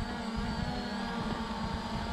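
A Beast SG906 drone hovering in place outdoors gives off a steady, even whine with a low droning hum. The sound stays constant and close throughout, with no voices.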